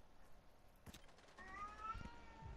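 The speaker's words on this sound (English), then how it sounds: "What do you want, cat?" A house cat meows at a window indoors, a few drawn-out, rising cries in the second half of the clip, fairly close and moderately loud over a faint room background, with a couple of sharp knocks around them.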